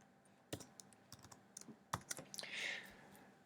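Someone types on a computer keyboard while writing program code, with scattered, irregular key clicks and a few louder taps, close and quiet with no talk.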